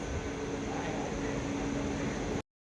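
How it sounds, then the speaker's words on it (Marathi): A steady, loud rumbling drone of a train arriving at a station, with a low hum running through it, continuous until it cuts off abruptly. "फायनली आमची ट्रेन आली बघू शकता"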